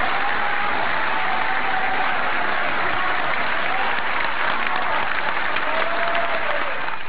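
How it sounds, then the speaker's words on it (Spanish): Spontaneous applause from hundreds of attendees at a peace-process discussion forum in Cartagena, a dense, steady roar of clapping that stays loud and even throughout. "El aplauso fue espontáneo."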